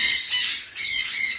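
Harsh, repeated squawks from a Lutino Opaline parrot with a clean red-orange head and tail, sounding close and loud in two bursts with a short gap between them.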